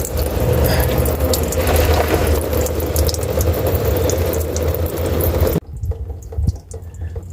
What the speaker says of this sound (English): I'm just gonna let that drain until it goes to a slow drip